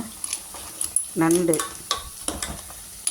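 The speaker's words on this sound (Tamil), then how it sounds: "நண்டு வறுத்துட்ருக்குறேன்" Crab frying in a pan gives a faint background sizzle with scattered scrapes and stirring clinks, broken by one louder, fuller burst of frying near the middle.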